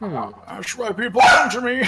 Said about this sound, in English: Oh, that's the neighbor's dog.